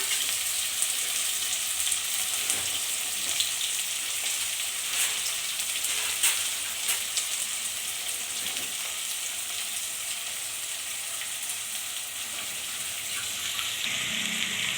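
Onions and a bay leaf frying in hot oil for a Kannada-style mutton fry, a steady, close, bright sizzle with faint crackles and pops throughout, no voices.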